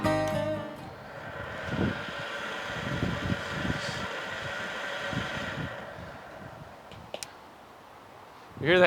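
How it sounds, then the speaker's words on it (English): A sawmill motor with failing bearings runs steadily and loudly through the whole stretch, a sustained mechanical drone with a rough, uneven grind underneath, while a voice briefly speaks over it near the end. "The bearings are going out in this motor right here"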